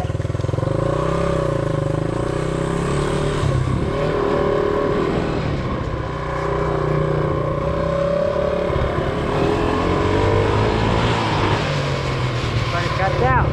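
A Honda SL100 motorcycle engine with a misfire runs close by, its note rising and falling unevenly and sputtering as it struggles and cuts out.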